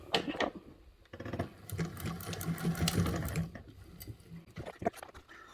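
A sewing machine stitches a seam with a short stitch length and a narrow allowance, running in a quick mechanical patter for a few seconds between brief pauses, close and fairly quiet.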